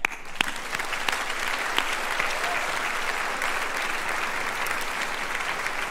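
Sustained applause from graduates at a 2022 MPP, MIA and PhD commencement ceremony, steady dense clapping of a large crowd filling the hall throughout with no speech over it.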